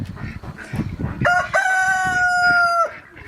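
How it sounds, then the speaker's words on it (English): A rooster crows once, a loud sustained call rising then holding steady before cutting off, over faint background noise. "Here's a rooster."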